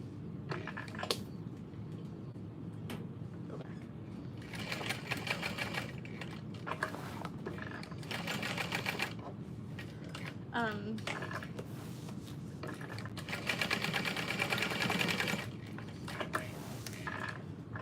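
A sewing machine stitches a tote bag in several bursts of rapid mechanical whirring, close up, separated by pauses filled with handling noise, while a voice talks over part of it.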